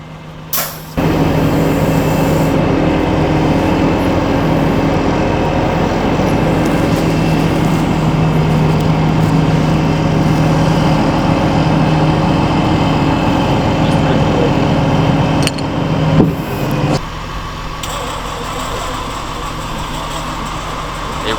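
A classic truck engine cranks on and on in a loud, steady drone without catching, then cuts off briefly near the end.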